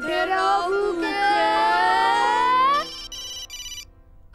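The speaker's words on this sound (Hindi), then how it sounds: "फोन बजा, पापा का फोन" A phone ringtone plays loudly as a bright electronic melody for nearly three seconds, then continues as softer repeated tones before cutting off, heard alone with no one speaking.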